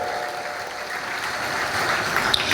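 A crowd at a celebration program for sales achievers claps steadily throughout, a continuous even wash of applause with no voices on top.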